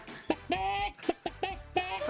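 A voice imitating a hen with a rapid series of clucking, squawking syllables, close and fairly loud.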